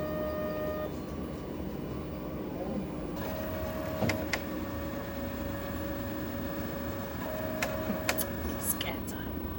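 A blood gas analyzer runs in a hospital, giving a continuous mechanical hum with thin steady tones that cut in and out and a few sharp clicks, moderately quiet, while people talk nearby.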